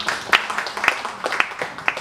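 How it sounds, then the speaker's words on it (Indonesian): Scattered applause for God during an Indonesian church gathering, a handful of sharp, uneven claps over two seconds, fairly close and moderately loud. "kasih tepuk tangan buat Tuhan"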